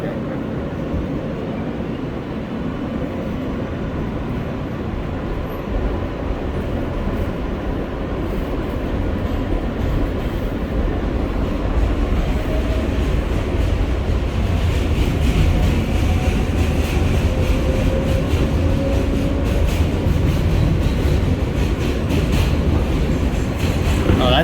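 An R143 L subway train rides toward Rockaway Parkway, a loud continuous rumble and rattle of the car with wheel clatter, building slightly in intensity and staying steady throughout.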